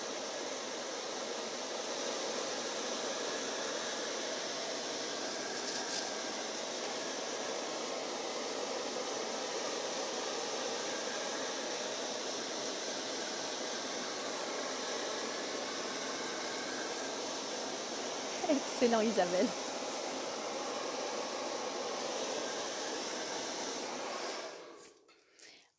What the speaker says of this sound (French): je vais de nouveau passer un coup de sèche-cheveux